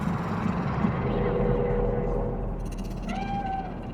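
A cat meows in Cyberpunk 2077 on PS5, a short rising-and-falling meow near the end, set against a low rumbling game ambience and voices.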